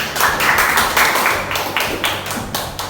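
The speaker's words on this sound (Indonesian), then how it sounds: "tepuk tangan untuk kelompok 1" A small classroom group claps together for a student team in a high school math lesson, a quick run of loud, distinct, rhythmic claps close by.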